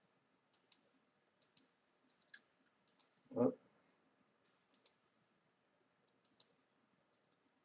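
Computer mouse button clicks, crisp and close, coming singly and in quick pairs at irregular intervals over a quiet room background, with one brief low thump in the middle.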